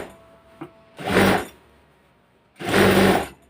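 A sewing machine runs two short, loud bursts of double stitching along a pants waistband, each lasting about half a second, separated by a quiet pause with a faint click.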